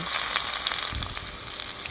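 Chopped onions frying in oil in a kadai, a dense continuous sizzle and crackle heard close up with one soft stir midway.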